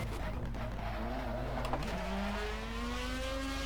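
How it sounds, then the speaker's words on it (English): A race car in the rFactor video game spins out on the Nordschleife. The engine drones and its pitch rises and shifts as the tires squeal and skid, loud and close, with the whine climbing toward the end. "we've had our first spin of the day"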